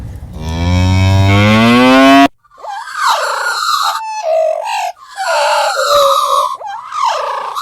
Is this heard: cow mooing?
yes